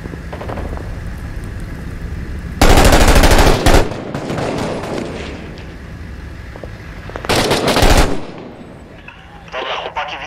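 Gunfire in the military shooter game Six Days in Fallujah, with loud bursts of automatic fire in two heavy volleys amid a noisy battle backdrop and voices talking over radio.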